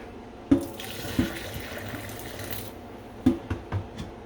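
Hot pasta water is drained into a kitchen sink, a steady splashing rush of water with a few sharp clanks and knocks from the pot against the metal basin.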